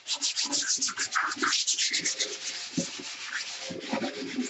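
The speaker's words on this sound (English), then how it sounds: "Sand off that rust a little bit." Sandpaper scrubs rust off a bathtub in steady, rapid back-and-forth strokes, a close, continuous gritty rasp with no pauses.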